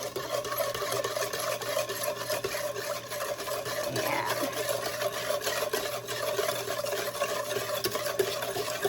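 Dry powdered ingredients for a honeycomb cake, including salt, being stirred in a bowl: a steady, close scraping and rasping that runs unbroken throughout, with no talk.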